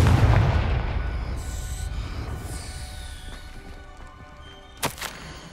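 The Confringo spell explodes in the Hogwarts Legacy video game with a loud, deep boom at the start that rolls away into a fading rumble, followed near the end by a short, sharp impact.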